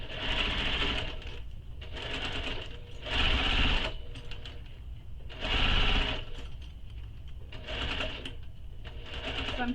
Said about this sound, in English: now we're going to sew this with the seam allowance given in the pattern